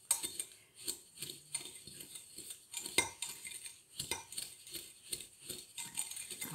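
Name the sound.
mixing powder with a spoon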